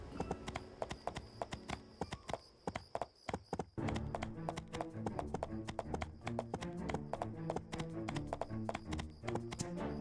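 Horse hooves clip-clop in the game My Time at Portia, a quick rhythmic series of crisp taps that pauses briefly and then resumes steadily over background game music.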